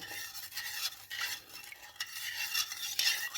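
A spoon stirs 2 to 2.5 cups of granulated sugar into water for revani syrup, scraping and clinking against the pot in steady close strokes with no talk.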